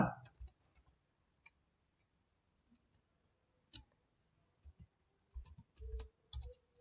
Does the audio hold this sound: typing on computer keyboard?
yes